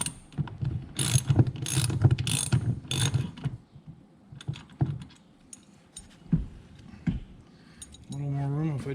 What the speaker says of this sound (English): Gonna have to do that back one by a ratchet